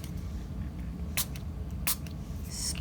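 Two short, sharp bursts of spray from a pump spray bottle of Distress ink, spaced well apart and close to the ear, over a low background hum.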